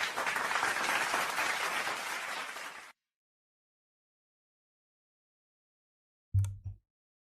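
Applause bursts out on a football World Cup live stream, a dense steady patter of clapping lasting about three seconds before cutting to silence, followed by a brief low thump.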